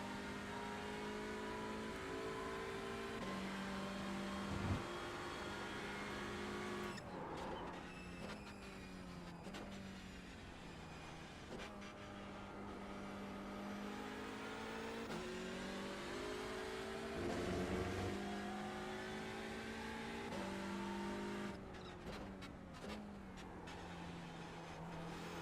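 A front-wheel drive race car in iRacing at Daytona holds a steady, sustained engine drone with shifting pitch as it revs and changes gear, continuous and fairly close throughout with no talking.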